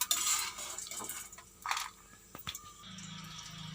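Fried chana dal and dried red chillies are moved from a pan into a bowl, with a few close metallic scrapes, clinks and rattles separated by short quiet gaps.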